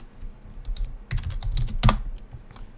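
Rapid clatter of keys on a computer keyboard, with irregular bursts of close, crisp clicks and one louder cluster near the end, while someone enters a city name; no talk.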